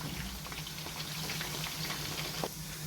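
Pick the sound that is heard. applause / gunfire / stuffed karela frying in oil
stuffed karela frying in oil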